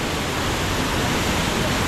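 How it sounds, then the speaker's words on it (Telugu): A small waterfall pours from above in a forest gorge swollen after a recent storm, a loud, close, unbroken roar of rushing water with no gaps. "ఇది ఒక చిన్న వాటర్ ఫాల్స్, పై నుంచి వాటర్ పడుతున్నాయి చూడండి."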